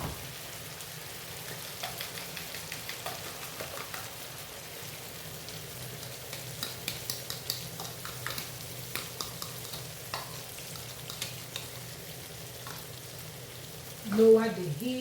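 An egg frying in a pan gives a steady, quiet sizzle with small crackling pops scattered throughout, and a brief louder clatter near the end.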